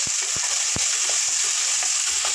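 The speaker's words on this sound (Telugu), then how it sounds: "ఉల్లిపాయలు వేసేస్తున్నాను" Onions cooking in oil in a pan give a loud, continuous hiss with occasional soft taps of a spoon, close by and without voices.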